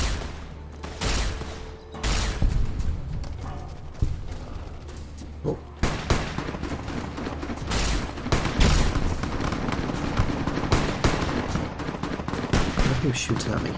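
Heavy gunfire in Fallout: New Vegas, with sharp shots and booming impacts coming in clusters, then a dense barrage in the second half, loud and close, while a player talks over it at times.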